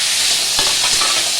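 Fried vegetables, including drumsticks, tipped into hot oil with panch phoron for a Bengali chorchori, giving a loud, continuous sizzle with a brief stir of the pan partway through.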